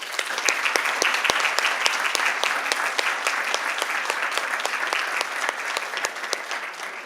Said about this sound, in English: Please give these girls a big round of applause.